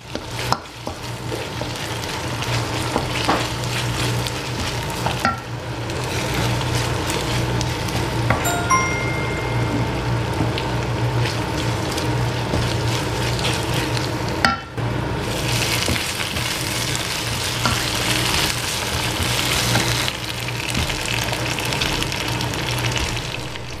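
Chili paste sizzles and crackles continuously in a frying pan at close range, with occasional stirring scrapes and clinks over the steady frying hiss.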